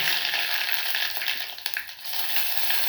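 Cumin, mustard seeds and curry leaves sizzling in hot oil for tempering a Marathi katachi amti, a loud continuous crackling fry with a brief stir in the middle.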